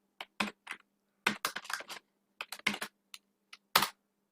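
Keys clatter in quick irregular bursts as Python code is typed on a computer keyboard, crisp, close clicks separated by short pauses.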